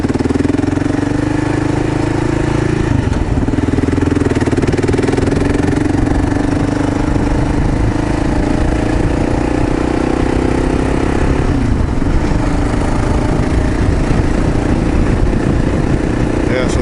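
A Kawasaki KLR 650 motorcycle engine idles nearby, a loud, steady low thumping rumble with slight shifts in pitch, under occasional talk.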